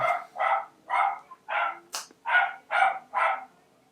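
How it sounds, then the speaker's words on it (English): A dog barks repeatedly in a steady rhythm, about eight sharp barks, fairly close, with a brief whip-like snap midway. "I'll just wait for the dog to stop barking."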